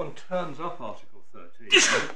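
A single loud sneeze in a courtroom during an appeal hearing between a bank and the tax authority, bursting out sharply just after a man finishes a sentence of speech.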